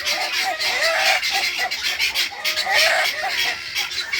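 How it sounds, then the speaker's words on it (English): Hens and guinea fowl squawk and cluck loudly all at once, a close, continuous chorus of harsh, overlapping calls with no let-up. "hens and the guineas all get going at the same time, it gets quite loud"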